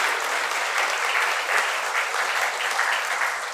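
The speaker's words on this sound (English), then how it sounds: "So would you give them a round of applause?" Sustained applause from a room of judges and magistrates at a retirement ceremony, steady and even throughout with no talk over it.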